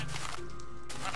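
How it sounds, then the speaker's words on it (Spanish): A short Minecraft sheep bleat on Xbox 360 rises over a busy electronic game soundtrack, followed by a brief burst of noise. "Ovejas,"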